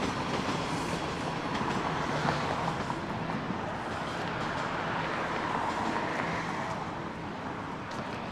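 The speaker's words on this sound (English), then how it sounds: "There goes the Line 1 train." A Toronto Line 1 subway train rumbles past at moderate distance, a continuous broad roar with faint wheel clatter holding steady for several seconds.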